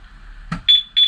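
Yamaha Aerox 155 scooter's anti-theft alarm as it locks: a brief click, then two loud, steady electronic beeps close by, with a short gap between them.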